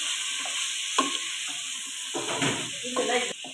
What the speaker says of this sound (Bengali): আমি এখন আলু দিলাম